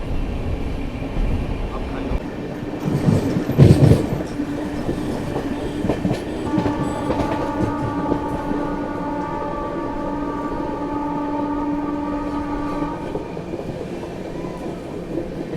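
An express train passing in thick fog, a loud steady rumble with clickety-clack of wheels, a sharp burst near the middle and a long horn-like tone sustained through the latter half.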